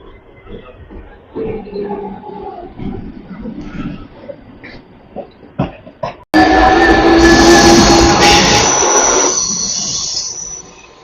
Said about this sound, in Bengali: এই নতুন রেলগুলোতে আওয়াজগুলো কিন্তু ভালো লাগে, সাউন্ড গুলো বেশ খুব সুন্দর